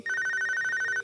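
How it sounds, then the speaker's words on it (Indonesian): A mobile phone rings at night, a steady electronic ringtone repeating in rapid even pulses, loud and close, with no voices over it. "malam-malam sekitar jam 10 itu HP saya bunyi itu"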